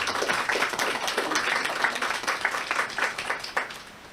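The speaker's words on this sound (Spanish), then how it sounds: "Un aplauso para la maestra Fabiola." Audience applause at a symposium on José Revueltas's El Apando: a steady, dense wash of many hands clapping together, sustained evenly and fairly loud from start to finish with no voices over it.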